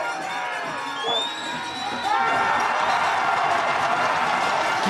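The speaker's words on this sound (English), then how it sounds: "Let's listen to the crowd." A large outdoor crowd at the St. Moritz bobsleigh World Championship 4-man heat cheers and shouts continuously, the roar swelling louder midway and holding at full intensity.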